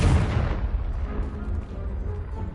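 A Confringo explosion spell is cast in the video game Hogwarts Legacy: a loud, close boom hits at once and then fades into a rumbling decay.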